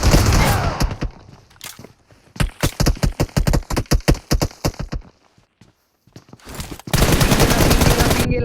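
M4 rifle fire in a shooting video game: loud, close bursts of rapid shots, a short silent gap, then a dense sustained volley of automatic fire.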